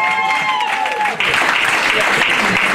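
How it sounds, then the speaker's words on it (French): Wedding guests applaud, a loud burst of clapping and cheering that follows a sustained tone and voices, continuing close and busy to the end. "Applaudissez pour eux quand même, hein?"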